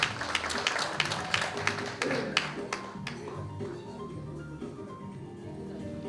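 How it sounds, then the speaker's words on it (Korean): An audience at a lecture hall event gives a short round of applause, dense clapping for about three seconds that fades into room murmur. "환영사를 해주신 우리 총재님께 다시 한번 큰 박수 부탁드리겠습니다"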